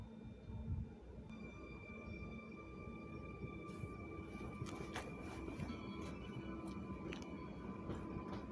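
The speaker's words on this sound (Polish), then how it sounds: "O, a tam mamy z naprzeciwka drugi impuls. Drugi pociąg impuls." A Polregio Impuls electric multiple unit train rumbles past at a distance with steady broadband noise, occasional squeals and clanks, and a sustained high whine over the low roar.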